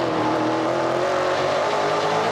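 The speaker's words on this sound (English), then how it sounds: "You can hear the bumps in the RPM of the engines." NASCAR Pinty's Series race car engines running at the 2019 Lucas Oil 250, a loud continuous roar whose pitch wavers and dips as the cars hit track bumps, steady throughout.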